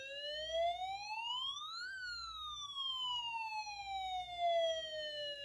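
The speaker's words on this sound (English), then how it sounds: "my friend Curious George has the siren" A Curious George toy siren wails in long rising and falling sweeps like a fire truck siren, steady and fairly faint, with no voices over it.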